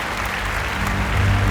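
Audience at a Kerala award ceremony honouring the state's first woman toddy tapper breaks into steady, dense applause, continuous and fairly loud, swelling slightly toward the end.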